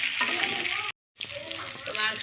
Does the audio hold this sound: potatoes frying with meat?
yes